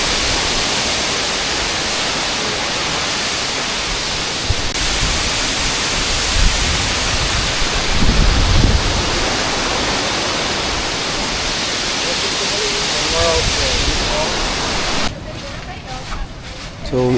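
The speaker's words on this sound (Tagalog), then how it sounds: "Wow, falls." A waterfall in Luzon in the Philippines, a loud, close, unbroken roar of rushing water that fills the whole clip, with a few faint bumps and a slight change in tone near the end.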